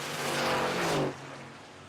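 Drag racers launching side by side, an F-150 against a car on a 12-second drag strip, heard as a faint, distant engine roar that swells for about a second and then fades away.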